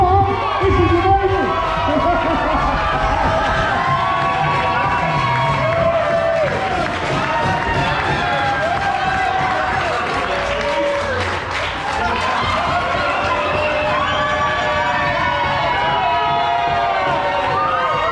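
A crowd at a corporate Christmas party DJ gig cheers and shouts loudly and continuously, with scattered clapping and voices calling out under music, close and dense throughout.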